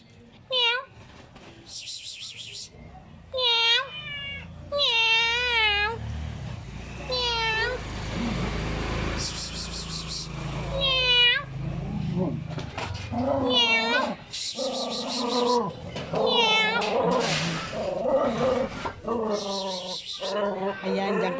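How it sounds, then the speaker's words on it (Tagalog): A cat meows repeatedly, loud and close, in drawn-out rising and falling cries, while a person talks between and over the meows. "Ayan may may pusa"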